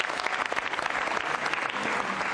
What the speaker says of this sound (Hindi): आकांक्षा पाठक के लिए जोरदार तालियां बजाइए